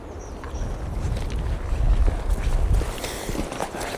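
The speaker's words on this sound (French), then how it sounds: "Il y a un petit vent." Outdoor wind rumbles and buffets steadily in a boreal forest in Quebec, with low gusty roaring and faint rustling throughout.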